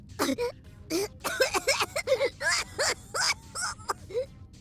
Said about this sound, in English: That's a nasty cough you've got there.